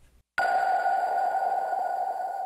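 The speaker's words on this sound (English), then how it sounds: "these two kind of reverb plucks from one of the Cashmere packs" A reverb-drenched synth pluck from a Cashmere sample pack, built for a dark trap-pop track, strikes once after a short silence and rings out in a long, bright, sustained tail that fades slowly.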